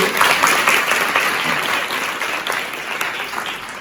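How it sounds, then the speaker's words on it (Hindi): Sustained applause from a school audience at a defence and police careers awareness event for girls, a dense even wash of clapping that holds steady throughout. "तालियां सब लोगों को"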